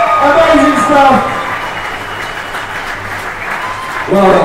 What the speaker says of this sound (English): Huge round of applause for Ben!